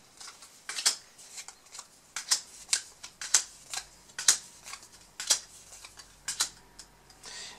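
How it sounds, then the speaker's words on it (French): A deck of cards for a Texas Chainsaw Massacre Slaughterhouse board game being shuffled, a series of crisp close riffling snaps in irregular bursts with quiet pauses between. "On mélange le paquet."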